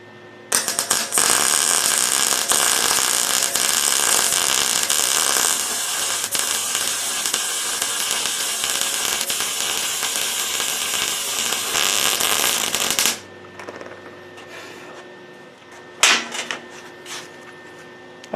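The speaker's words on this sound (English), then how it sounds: "I've bared the metal and I'm going to weld these two pieces together" Welding two bared metal pieces together produces a loud, steady crackling hiss for about twelve seconds, then stops abruptly, leaving quieter shop noise and a brief burst of crackle near the end.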